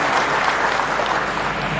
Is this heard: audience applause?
yes